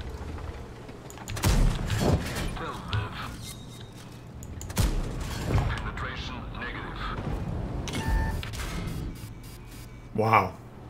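Sniper rifle shots in a first-person shooter game ring out as several sharp, loud cracks with echoing tails, spread across the stretch, over game noise and someone talking.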